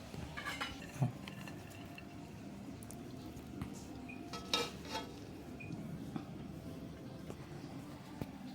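Cooked basmati rice, a fluffy white pulao, being spooned onto a plate in a home kitchen, with light clinks of a spoon and utensils against dishes and a scatter of soft scraping sounds.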